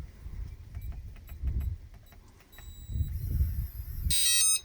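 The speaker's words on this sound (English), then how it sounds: "you know the obnoxious beeps when you lock or unlock it" A keyless RV door lock gives several short electronic beeps in quick succession, followed by a longer, louder beep, over faint background rumble.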